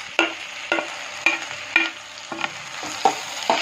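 Tomatoes frying with onions, chillies and garlic in a pan for prawn curry, with a spoon scraping and stirring in about seven sharp, regular strokes over a steady close sizzle.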